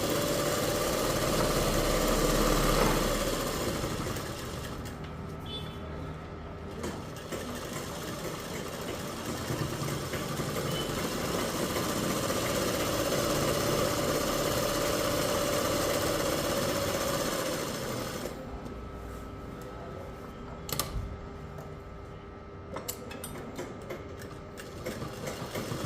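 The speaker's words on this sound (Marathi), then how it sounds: "शिलाई मारून घ्यायची आहे." Sewing machine stitching canvas on a belted salwar, a close, rapid steady whirring run for most of the span, then stopping, followed by a few scattered clicks and short bursts.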